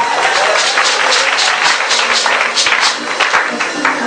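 A church congregation applauds in praise of the Lord, a dense, loud, sustained roll of many hands clapping with a few voices faintly mixed in.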